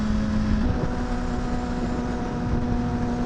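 Loud sport motorcycle engine riding through traffic, heard as a steady, close droning hum with an even pitch that holds for the whole stretch without breaks.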